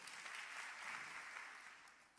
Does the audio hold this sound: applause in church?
yes